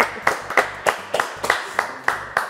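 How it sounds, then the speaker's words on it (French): An audience claps for musicians in steady, rhythmic unison, about nine sharp beats close together, with no other sound between the claps. "On va applaudir Lisanne. Thierry et Philippe quand même."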